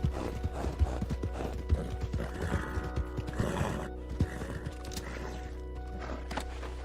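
Horse in the Red Dead Redemption 2 video game, whinnying and neighing repeatedly with clip-clopping hooves over a steady low ambient hum, no talk.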